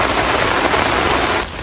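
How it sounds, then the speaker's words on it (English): A heavy rain downpour drums on a tarp camp in the woods, a dense, loud, continuous hiss close overhead that thins slightly at the end. "I think it's just a bit of a downpour, hopefully it'll go off"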